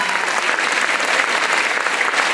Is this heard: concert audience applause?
yes